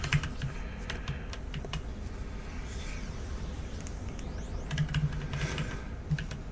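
Rapid keyboard typing and mouse clicks during a City of Heroes game session, a steady close-up clatter of keystrokes running throughout with a few louder clicks standing out.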